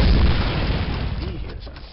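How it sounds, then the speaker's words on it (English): A door blown open by an explosion in the World War II shooter Call of Duty: a loud, close boom whose dense rumble starts at full strength and slowly fades over two seconds, with a voice faintly audible beneath. "Blast this door open."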